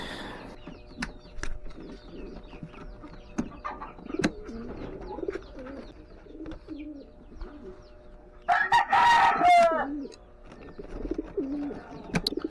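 Fighting roosters crow on a rural morning, with several bursts of crowing and clucking scattered across the clip and one loud, close crow standing out near the end.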